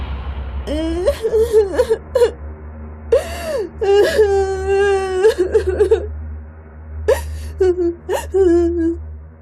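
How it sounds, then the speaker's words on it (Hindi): A cartoon child of about four or five wails and whimpers in drawn-out, wavering cries broken by sobbing gasps, loud and close over a low steady hum. "कि एक 4-5 साल का बच्चा रो रहा था।"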